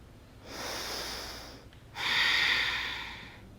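Two long, deep breaths during a seated yoga twist, a softer airy one followed by a stronger, louder exhale through the nose and mouth, close and alone.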